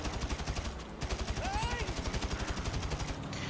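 Rapid automatic gunfire in the video game GTA V, a dense, steady rattle of shots with a brief whistling sweep mixed in, continuous and fairly loud, no talking.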